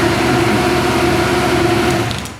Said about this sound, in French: Et vous enclenchez le bouton de démarrage.